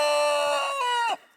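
A rooster crowing once on a homestead, a single loud, close, drawn-out call with a bright harmonic tone that rises and then drops away at the end.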